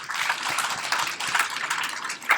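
Audience applause at a Men Make A Difference Day event, a steady wash of many hands clapping at moderate volume, continuous and fairly even throughout, with no voices standing out.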